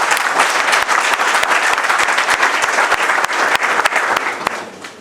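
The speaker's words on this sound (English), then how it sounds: "another hand clap" Loud, close applause from an engineering audience at a research and innovation event, a dense clatter of many hands with sharp individual claps standing out, easing off at the end.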